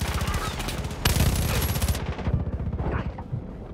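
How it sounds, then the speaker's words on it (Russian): Rapid automatic gunfire in Far Cry 5 during a military invasion of a region, with dense bursts of shots rattling loud and close, a sharper volley in the middle, then scattered fire and a few distant pops. "Кто по мне стреляет?"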